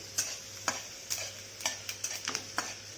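Garlic spluttering in moderately hot oil for mango pickle, a quiet bed of fizz broken by sharp pops and crackles at irregular intervals, about a dozen over a few seconds, with no voices.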